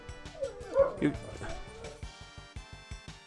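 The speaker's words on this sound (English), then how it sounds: "he does like to interact with other dogs to the point where he just simply barks at them" A dog yips, barks and whimpers in quick, uneven bursts close by, while someone talks over it.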